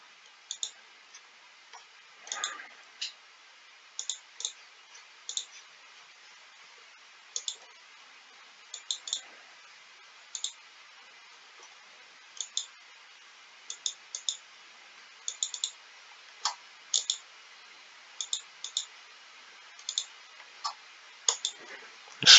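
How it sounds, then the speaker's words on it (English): A computer mouse clicks sharply during a League of Legends session, with single and double clicks coming in irregular clusters every second or so over a faint quiet room background, and no talk. "It's a lot of clicking this game"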